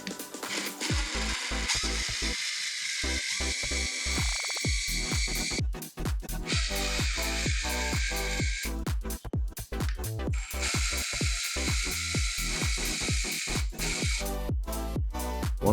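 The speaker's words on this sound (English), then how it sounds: "I used the power drill to drive it through completely." Power drill driving a tight bolt through a 3D-printed tilt table base, with bursts of loud whirring and rapid ratcheting clicks, repeated starts and stops, close and without talk.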